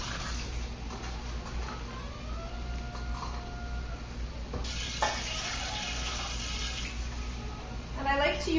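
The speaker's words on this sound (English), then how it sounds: "And I just want to boil the 3 cups of water" Three cups of water heating in a pot for yerba maté give off a steady low hiss and bubbling, with a faint tonal whine rising in the middle and a brief clatter near the end.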